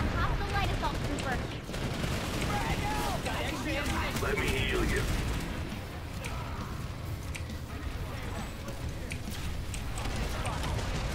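Rapid bursts of gunfire crackle through a big battle in the video game Planetside 2, with overlapping shots and fusillades running throughout at moderate loudness and a voice talking over them.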